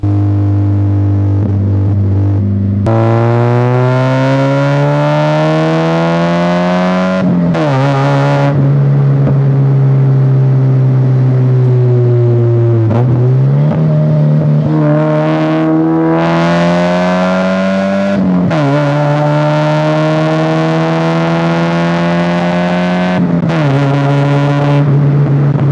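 A cheap Mazda Miata on a 500-mile road trip, its engine droning loud and steady inside the cabin, pitch climbing through each gear and dipping at the shifts, with no talking.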